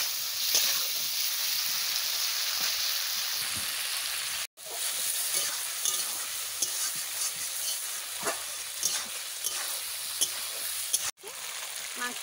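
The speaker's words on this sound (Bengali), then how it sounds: "মাংস আদা আদি ভাজা হয়ে গেছে" Pieces of chicken meat with ginger sizzle in a pan while being stirred and scraped, a steady bright frying hiss with brief clatters of the spoon and two short breaks in the sound, and no talking.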